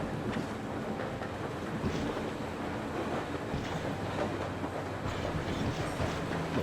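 A train rolls along steadily in the video game Metro Exodus, a dense rumbling wash with faint rhythmic clacking of wheels on rails, continuous and fairly close with no speech.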